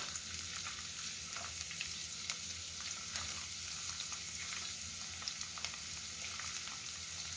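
Onion, dried spices and red chili frying in oil in a pan for Kerala kadala curry, a steady close crackling sizzle that runs throughout with small pops.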